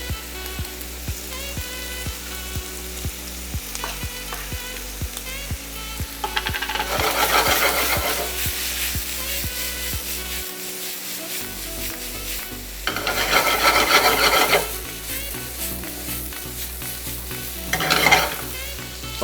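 Plantain and chicken ham filling sizzles steadily in a hot pan while a utensil scrapes and stirs through it, with louder bursts of stirring at intervals and no voices.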